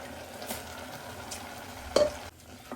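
Soaked rice being stirred into mushroom biryani masala in a pot, a soft scraping and sizzling texture with a few sharper spoon strikes against the pot near the middle, close and unaccompanied by speech.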